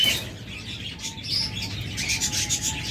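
Caged pet birds, master pairs of lovebirds, budgerigars or cockatiels, chirp in quick, bright bursts close by, repeated over soft background rustling.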